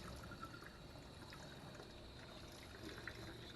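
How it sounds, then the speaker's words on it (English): Water dribbles and trickles steadily onto a screen-printing screen, a soft continuous wet patter with faint splashing, quiet and close, without talk. "Dribble it on there."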